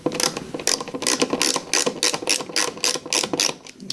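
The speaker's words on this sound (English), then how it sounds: "Let me get my handy screwdriver." A ratcheting screwdriver turns a screw on a household light switch, giving a steady train of loud, close clicking bursts in quick rhythmic strokes with no talk.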